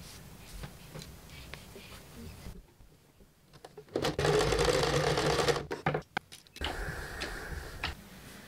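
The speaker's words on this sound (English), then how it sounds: "pin together and sew down the seam, press open, and then we will stick that into the other collar" A sewing machine stitches the seam of a jacket collar in a steady rapid whir that swells loud for a couple of seconds mid-way, with quiet stops and faint handling noises around it.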